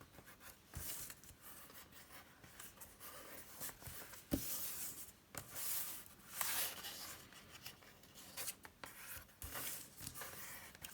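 Soft paper rustling and creasing as the edges of a junk journal pocket made from vintage floral printable paper are folded over, with quiet scraping strokes in irregular bursts and no talking.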